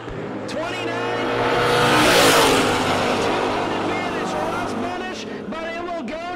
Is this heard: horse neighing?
no